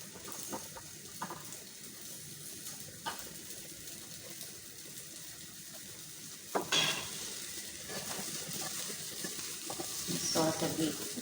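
Meatballs fry in a pan with a steady, moderately loud sizzle, broken by occasional clatter and stirring noises and a brief louder burst partway through.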